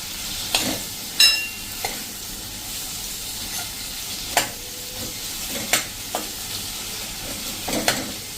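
Ridge gourd being stirred into a sizzling tempering over a medium flame, a soft continuous fry with several distinct spatula scrapes and clacks against the pan at irregular intervals, close and unaccompanied by talk.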